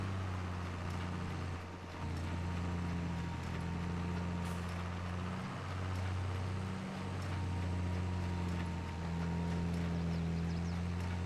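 Tractor engine in Farming Simulator 22, a steady low diesel drone with strong harmonic tones that dip and shift slightly as the load changes, loud and continuous with no talking.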